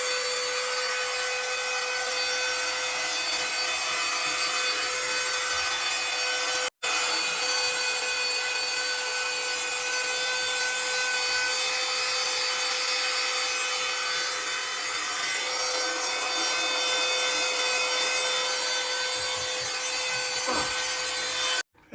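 Portable handheld vacuum cleaner running close by with a loud, steady whooshing whine and a constant tone, briefly cut off once and stopping at the end.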